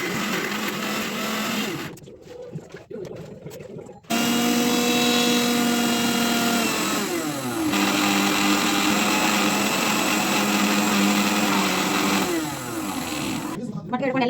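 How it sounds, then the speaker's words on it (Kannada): An electric mixer grinder grinding chutney with salt and garlic: a loud, close whirring motor runs in bursts, with a quieter pause early on and a brief dip in speed midway before it roars on steadily. "ಈಗ ಮಿಕ್ಸಿಗೆ ಹಾಕೋಣ ಅಂತ"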